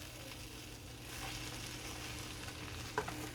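Egg-in-a-hole bread frying quietly in a pan just after being flipped, a soft steady sizzle with a small knock near the end, faint and close, no talking.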